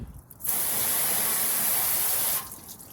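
A hose spray nozzle blasts water upward against a car's rocker panel to rinse away road salt, a close, loud hissing burst lasting about two seconds before cutting off.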